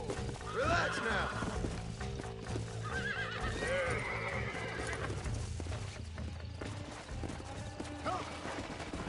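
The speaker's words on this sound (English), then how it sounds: "Okay, Bonnie, I caught the dumb horse." A horse in Red Dead Redemption whinnies and snorts repeatedly while hooves clip-clop steadily, fairly close and loud, with someone talking over the animal noise.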